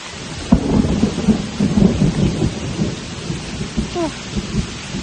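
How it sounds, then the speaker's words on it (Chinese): Thunder rumbles through steady heavy rain on Gunung Pulai, a mountain in Johor, Malaysia, the downpour a dense hiss with low booming swells rolling underneath. "打雷了，我看这个雨应该是会越下越大了"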